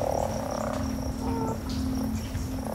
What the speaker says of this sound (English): It's a toad.